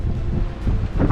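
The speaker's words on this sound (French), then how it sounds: "Et alors Ben, t'en penses quoi de ces alizés? Ils sont bien établis là" Strong trade winds blow across the open Atlantic during a transatlantic sailing crossing, a loud steady roar buffeting the microphone with low rumbling gusts and rushing sea noise, and no voices.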